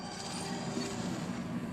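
A train from the Star Wars series The Book of Boba Fett rumbles steadily with a constant low roar and mechanical rail noise, loud and continuous throughout.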